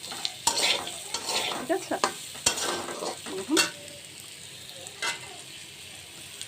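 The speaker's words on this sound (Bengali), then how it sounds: "দারচিনি, এলাচ, তেজপাতা আর জিরা ফোড়ন দিয়েছি, আর কাঁচামরিচ, শুকনো কাঁচামরিচ ফোড়ন দেওয়ার পর আমি হালকা যে তেলের উপর ভেজে নিচ্ছি এগুলো" Cinnamon, cardamom, bay leaf, cumin and fresh and dried green chillies fry lightly in oil, crackling with sharp spatula knocks and scraping stirs against the pan, while a voice speaks briefly.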